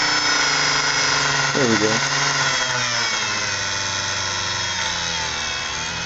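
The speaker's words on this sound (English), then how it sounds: "you can hear how the motor runs" A small HO scale model train motor runs with a steady, dense, high whirring buzz that fills the whole stretch, while someone briefly speaks over it.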